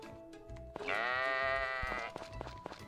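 Sheep bleat in the farming game Story of Seasons, a single drawn-out wavering bleat lasting about a second, loud and close, with soft game ambience around it and no talking.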